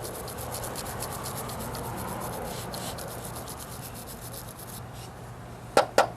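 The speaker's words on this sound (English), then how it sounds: "I had to take a heavy-duty brush to this, but I got it pretty well dressed." A heavy-duty brush scrubs the threads of an RV propane fitting in quick, even back-and-forth strokes, close and steady, ending with a few sharp clacks.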